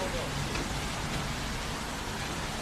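Steady rain falls on a city street in Chongqing, a soft even hiss that continues without a break.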